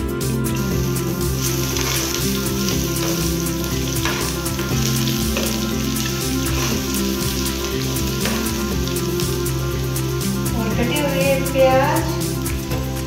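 Bay leaf, red chili and garlic paste fry in hot oil for dhaba-style dum aloo, a loud continuous sizzle with crackling and occasional stirring, heard close.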